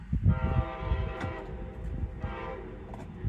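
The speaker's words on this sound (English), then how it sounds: "And here comes the train up. That's the bright line." Brightline passenger train rolling past with a steady rumble and blasts of its horn, sustained tonal honks rising over the rail noise for the whole stretch.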